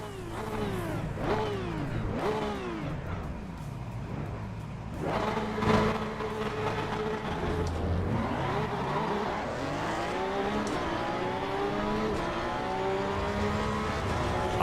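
Porsche Cup race car in Assetto Corsa EVO, engine revving hard with rising and falling pitch sweeps through gear changes, loud and continuous throughout.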